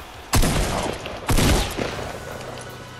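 Gunfire in Fortnite: two heavy, loud bursts of shots about a second apart, each trailing off into rumbling echo, with a fainter report following.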